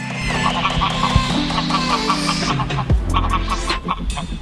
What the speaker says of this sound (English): Here we encountered a little farm with ducks, geese, cats, and dogs.